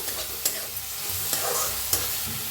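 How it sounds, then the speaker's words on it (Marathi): Finely chopped onion frying in oil, a constant close sizzle punctuated by several sharp scraping strokes of a spoon against the pan, with no talking. "चांगलं भाजून घेऊया कांद्याला"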